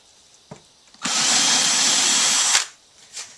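A power drill whirs steadily for about a second and a half drilling a shallow pilot hole in a fiberglass and foam boat bench seat, then stops, with a few faint clicks and taps before and after.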